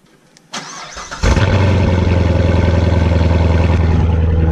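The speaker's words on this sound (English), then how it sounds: "Let's go ahead and start up the video with a nice little cold start." A C7 Corvette V8 with its mufflers deleted cold-starts, cranking and firing up loudly, then settles into a throaty, lumpy idle that rumbles steadily and close.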